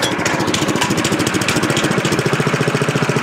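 The small engine of a Frontier OS23 portable sawmill runs on half choke while warming up, a close, steady, rapid chugging putter with a fast even pulse that holds throughout, with no talking.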